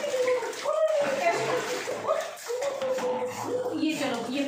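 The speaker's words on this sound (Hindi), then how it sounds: "ये पानी डाल देते हैं" Water splashes and pours over a pug puppy during a bath at home, with faint whimpers and a voice talking throughout.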